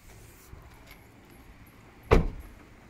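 A car door on a Proton Persona MC2 sits near the end as one sharp, close thud after a few seconds of quiet idle-free stillness with faint small clicks.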